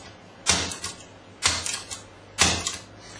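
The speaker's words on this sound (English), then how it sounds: "I can just give it a nice clean bump" A bump key is struck into a pin tumbler lock three times at roughly one-second intervals, each a sharp close metallic knock with a brief rattling tail, and nothing else is heard.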